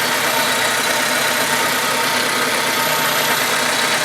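A 2000 Honda Civic engine with a newly fitted timing belt idles steadily close by, a constant even hum with no voices.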